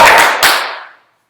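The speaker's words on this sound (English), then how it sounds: "More applause and a few sounds of cheering." Applause at a slave auction, a short burst of dense clapping that swells briefly and then fades out quickly to silence.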